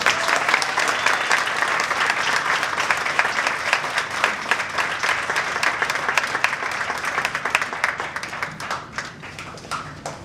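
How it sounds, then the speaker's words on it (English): Warm audience applause at a speaking event, a dense, sustained patter of many hands clapping that slowly fades toward the end. "please give a warm applause for her amazing accomplishments"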